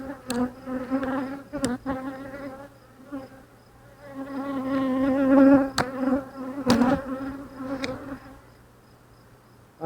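Honeybees buzzing close up during a beehive inspection, the frames holding brood, pollen and honey; a dense, wavering drone swells and fades, broken by a few sharp clicks and knocks of handling.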